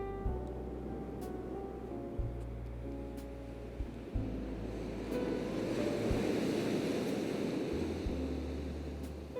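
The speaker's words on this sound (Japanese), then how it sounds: "海岸の風は少し冷たく、波が砂を撫でるたびに胸の奥のざわめきまで連れて行ってくれるようだ。" Ocean waves wash steadily onto a sandy shore while a cool coastal wind blows across the microphone, a continuous broad surf rush that swells slightly louder midway, with no voices.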